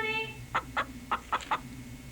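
A human voice imitates a chicken's clucking with five short, evenly spaced clucks over a faint steady hum, fairly soft and close.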